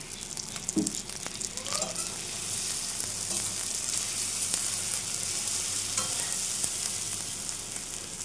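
Masala frying in mustard oil in a pan, a continuous close hiss of sizzling with a few scraping stir strokes and faint clinks, briefly under a voice near the start.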